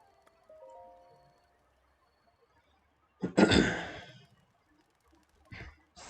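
A horse in The Legend of Zelda: Breath of the Wild gives a short, loud snorting neigh midway through the clip, followed by a briefer snort near the end over a quiet game background.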